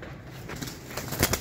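Golden teddy pigeons kept for sale, giving soft close rustles and a few brief wing flutters that are quiet and short.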